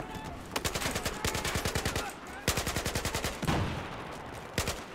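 Battlefield 4 gunfire: steady automatic bursts of rapid, evenly spaced shots that stop and start several times, loud and close, with a faint voice in the background.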